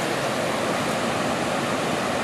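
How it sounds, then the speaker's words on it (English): Small waterfall only two or three feet high in a forest canyon in Bankhead National Forest, a steady close wash of falling water with no breaks and no voices. "it's not much of a waterfall. It's, you know, it's only 2 or 3 feet,"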